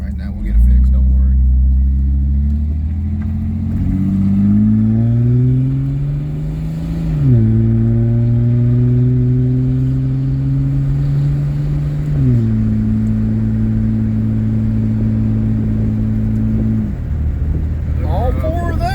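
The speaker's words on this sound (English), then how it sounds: "We're going to run up the road, put a little fuel in it real quick." A 1999 Jeep Grand Cherokee 4WD driving on a road, its engine rising and falling through several gear changes in loud, close acceleration sweeps, with a steady rumble beneath.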